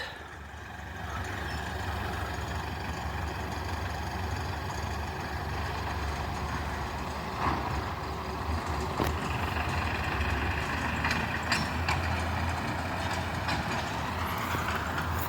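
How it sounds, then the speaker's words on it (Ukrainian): A tractor engine rumbles steadily in the open during haymaking at Oleksandriia arboretum, a low continuous drone with faint rattles, moderately distant, with no talking. "а тепер хлопчаки складають його на причеп і трактором вивозять на склад"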